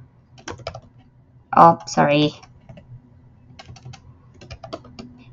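Computer keyboard typing while entering a name, light rapid key clicks in short bursts with a brief loud burst of talk in the middle.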